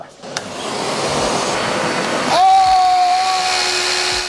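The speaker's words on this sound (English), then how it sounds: "I can literally use this as my hair dryer" Steady blowing motor noise with a rushing airflow hiss that shifts pitch partway through into a higher whine, like a hair dryer running close.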